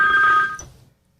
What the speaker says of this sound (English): I mean, something was just ringing.